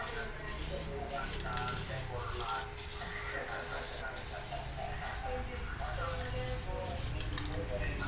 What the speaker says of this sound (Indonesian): semprot tipis-tipis dulu hingga merata